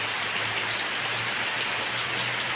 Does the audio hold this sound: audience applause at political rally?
no